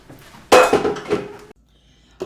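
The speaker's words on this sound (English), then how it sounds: "So I'm putting on the lid" An Instant Pot lid is set in place and closed after hot water is added to rice for Maharashtrian masale bhat, giving a loud metallic clatter and scrape that lasts about a second, then quiet with a faint clink at the end.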